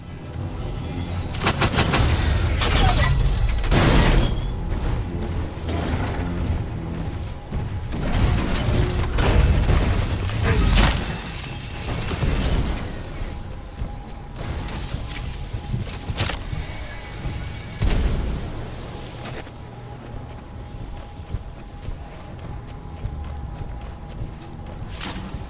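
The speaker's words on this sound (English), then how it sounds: "Looks like this wave is stocked with mortar titans. These guys launch rockets from afar." Rockets from mortar titans thud and boom repeatedly in a Titanfall 2 Frontier Defense match, a dense cluster of loud blasts and gunfire early, then sparser distant explosions over a steady background rumble.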